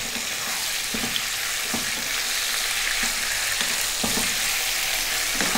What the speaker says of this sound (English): We're gonna be stirring often